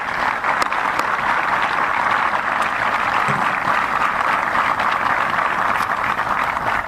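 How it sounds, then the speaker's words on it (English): Steady, dense applause from a large crowd, continuous and even for several seconds with no voices over it. "How about an applause for them?"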